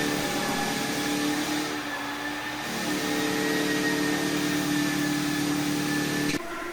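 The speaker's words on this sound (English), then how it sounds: "underneath it were 3 6-inch random orbital sanders that spun around and around on a big contraption" A floor sanding machine fitted with three 6-inch random orbital sanders runs across a heavy mixed hardwood plank floor, giving a loud, steady droning whine that shifts slightly in pitch before cutting off near the end.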